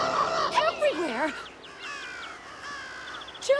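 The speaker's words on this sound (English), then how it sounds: "Birds everywhere!" Cartoon birds squawk and caw in loud, wavering cries that come in quick overlapping bursts, then thin out into scattered higher calls, with a final squawk at the end.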